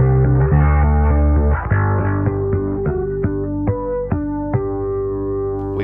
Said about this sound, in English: We've got a chorus.